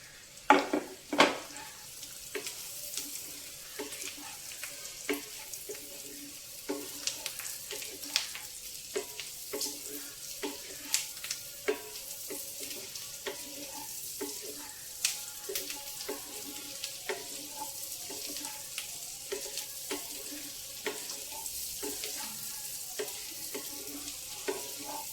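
Thinly sliced beetroot fries in a pan with senagappa, a soft continuous sizzle broken by scattered clicks and scrapes of stirring. The sound stays fairly close and moderate in level, with no one speaking.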